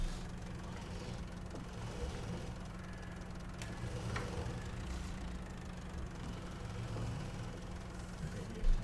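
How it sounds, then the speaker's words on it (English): A tractor engine idles in Farming Simulator 22, a steady low rumble running unbroken and fairly quiet the whole time, with a faint brief clunk near the end. "Should have turned the engine off"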